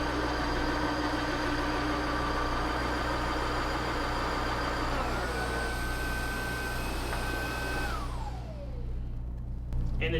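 Dreame Aero Pro wet dry vacuum mop running its self-cleaning cycle, a steady whining motor hum that shifts pitch upward partway through, then winds down and fades near the end.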